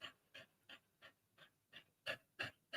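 A dog pants in a steady, quick rhythm of about eight short breaths, quiet and close, with no other sounds.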